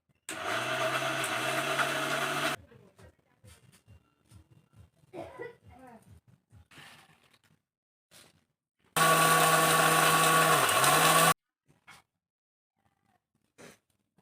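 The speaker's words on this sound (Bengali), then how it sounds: "এই দেখো লঙ্কা গুঁড়ো করে নিয়েছি" An electric grinder whirs loudly while grinding chillies into powder in a rural home, running in two steady bursts of a couple of seconds each, with quieter knocking and handling sounds between them.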